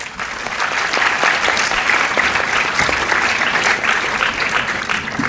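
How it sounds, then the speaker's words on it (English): A summit audience applauds its panelists in a sustained, dense round of clapping that holds steady and fairly loud for several seconds. "Once again, let's give our panelists a huge round of applause."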